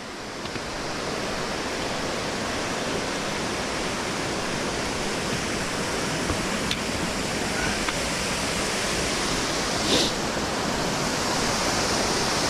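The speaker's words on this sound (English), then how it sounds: "I'm gonna let you see the waterfalls." A steady, roaring rush of falling water fills the scene, broad and constant throughout with no pauses.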